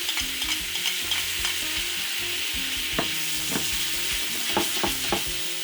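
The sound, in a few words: beef liver sizzling as returned to hot pan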